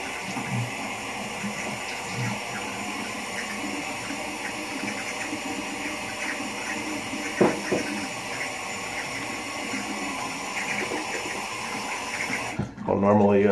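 Tap water runs steadily into a sink as a face is washed, a continuous close splashing wash that cuts off abruptly near the end.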